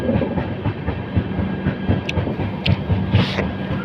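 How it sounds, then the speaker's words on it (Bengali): A WAP-7 electric locomotive hauling an Intercity Express rolls into a station, giving a steady low rumble with rhythmic wheel clatter over rail joints and a few brief squeals near the end, heard close with no talking. "WAP-7টা যে এন্ট্রিটা নিচ্ছে স্টেশনটার দিকে"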